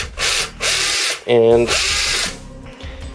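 Power drill boring into a shelf board for a DVD and game shelf build, several short bursts of whirring motor with a brief ratcheting clutch chatter in the middle, close and loud, with a voice briefly heard.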